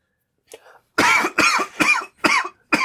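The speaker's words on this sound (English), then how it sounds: "I was coughing." Several harsh coughs burst out close to the mic, a faint throat noise first, then four or five loud, evenly spaced coughs with short gaps between them.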